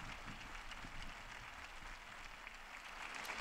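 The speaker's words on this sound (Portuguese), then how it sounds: "E um aplauso a todos eles." Audience applause from a crowd in the square at the Pope's general audience, a faint, distant, steady wash of clapping with no talk.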